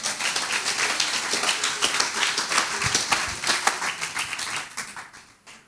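A church congregation claps steadily and loudly together for the Lord, dense rhythmic applause that continues for several seconds before fading out at the end.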